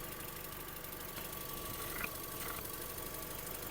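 A Skoda Octavia's 1.6 petrol engine idles at a steady, even hum with a faint mechanical ticking, quiet and continuous with no voices.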